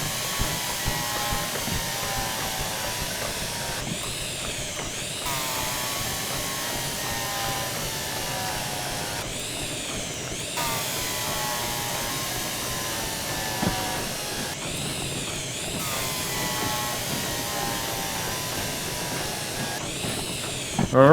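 Steady whirring drill in Derail Valley running continuously for about twenty seconds, with brief bursts of noisier grinding recurring every five seconds or so, level and close throughout with no talk.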